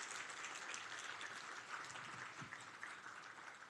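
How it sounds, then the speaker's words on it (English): Faculty audience at a university institute day applauding steadily, a dense even wash of clapping from many hands that holds at the same level throughout. "Do I get another round of applause?"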